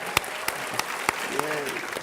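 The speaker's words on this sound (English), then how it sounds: "That's the perfect amount of applause for" Scattered, sparse applause from a small audience during a live chat event, a few distinct claps standing out over a steady background hiss, with a brief voice in between.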